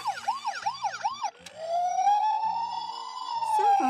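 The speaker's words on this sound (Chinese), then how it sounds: "警车声" A police car siren yelps in quick repeated rises and falls, then changes into one long, steady wail that holds loud and clear to the end, with no talking.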